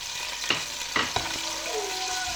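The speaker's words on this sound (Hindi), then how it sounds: "मैं मुसलसल चम्मच को हिला रही हूँ और प्याज को ब्राउन होने तक फ्राई करूँगी" Large, roughly chopped onion frying in hot oil, a steady sizzle broken by a few sharp scrapes and knocks of a spoon stirring in the pan, close and alone.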